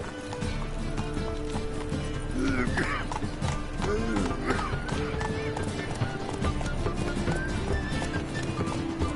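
Roach, a horse in The Witcher 3, gallops at speed. Fast, even hoofbeats clatter close by, with snorts and a whinny mixed in.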